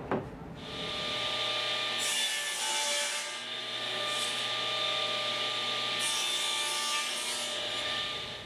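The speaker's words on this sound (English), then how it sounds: "out of a piece of scrap wood, I need to cut two 3 by 3½ inch pieces" A hand saw cuts through scrap wood, producing a continuous rasping, rhythmic back-and-forth sawing sound, fairly close and steady for the whole stretch, with slightly louder bursts at intervals.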